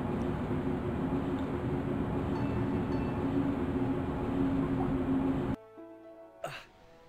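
A subway train ride in a video game gives a steady, loud rumble for about five seconds, then cuts off abruptly, followed by a brief faint noise.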